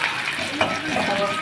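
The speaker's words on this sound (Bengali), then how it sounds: "পেঁয়াজটা ভাজা হয়ে গেছে" Chopped onions sizzle and crackle steadily in a hot pan for a snail curry, with a brief stir of the spatula partway through.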